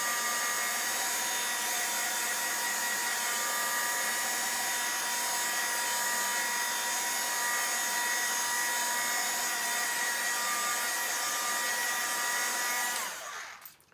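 A dryer blows a continuous, loud whooshing hiss over alcohol ink for about thirteen seconds, then cuts off abruptly with a quick spin-down.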